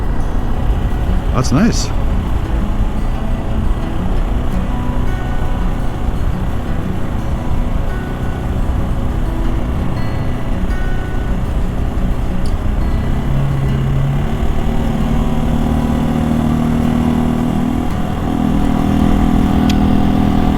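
A small motorcycle's engine idles with the clutch pulled in, a steady low rumble continuing throughout and rising slightly near the end, with a person speaking briefly over it.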